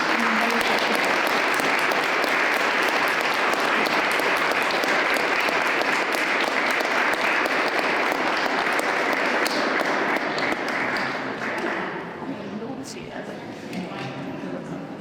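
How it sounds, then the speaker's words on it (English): An audience at a civic awards ceremony gives the teachers a round of applause: dense, steady clapping that fills the room for most of the stretch, then thins and tapers toward the end. "Let's have a round of applause for the teachers before we leave."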